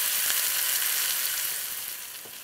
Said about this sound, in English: Let's add a pinch of salt and saute it for like 2-3 minutes.